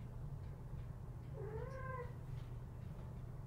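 A domestic cat lets out a single drawn-out, rising and falling meow partway through, heard faintly over a low steady background hum with no talking.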